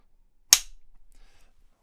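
A 3D printed clapper board snapping shut once, a single loud, sharp clap close by with a short ringing decay into quiet.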